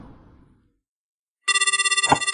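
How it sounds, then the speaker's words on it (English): After a moment of quiet, a burner phone starts ringing, a loud electronic trill with a fast pulsing warble that continues steadily to the end. "There goes my burner ringing again."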